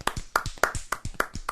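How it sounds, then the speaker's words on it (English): A few people clap in a steady, sparse rhythm, close and moderately loud, with no talking. "Round of applause, everyone, please."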